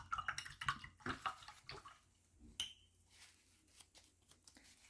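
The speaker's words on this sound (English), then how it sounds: "I wash my brush" A paintbrush is swished and rinsed in a water jar during a seascape painting session: soft, close splashing and sloshing in quick strokes, then quieter trickles, all fairly faint.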